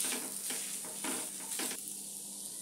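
Potatoes and curry leaves are stirred in a hot pan while making vada pav filling: a few rhythmic spoon scrapes over a quiet sizzle, close and fairly soft, with no speech.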